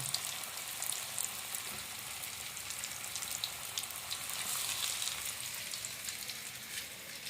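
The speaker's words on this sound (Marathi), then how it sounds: "आईन कापा आता फ्राय करून चालू केल्यानंतर रव्याक लावून" Semolina-coated vegetarian fish slices fry in hot oil, a continuous, even crackling sizzle held close at moderate loudness, with no talking.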